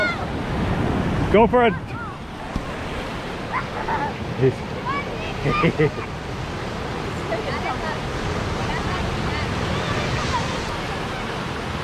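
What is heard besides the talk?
ocean waves at a beach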